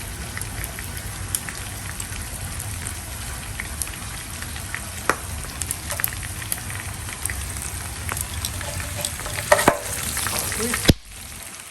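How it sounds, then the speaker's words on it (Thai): Pork pieces and dried chilies frying in hot oil, a steady dense crackle and sizzle like rain on a surface, continuous and close, with a few sharper pops near the end before it cuts off. "หมูทอดแล้วก็พริกทอดนะคะ"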